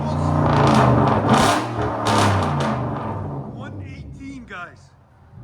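Hyundai Genesis 5.0L V8 with straight pipe exhaust revs hard, a loud, close roar swelling and easing over several seconds before fading, with voices talking over the engine near the end.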